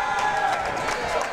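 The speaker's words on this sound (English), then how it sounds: "This crowd is loud." A packed small college basketball gymnasium in Hot Springs roars with sustained crowd noise, a dense wash of voices and cheering, while a commentator's voice runs over it.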